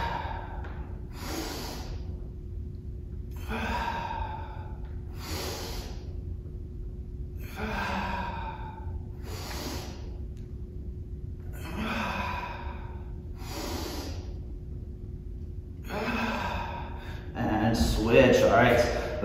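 Heavy, rhythmic breathing during a low-impact, no-equipment total body workout: about eight loud, close exhales and sighs spaced every couple of seconds over a steady low hum.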